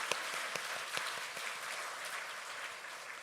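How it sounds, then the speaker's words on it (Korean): Church congregation applauding in welcome at a Korean Thanksgiving Sunday joint worship service, a steady, moderately loud patter of many hands with some sharper individual claps and no talking. "박수로 환영하기 원합니다."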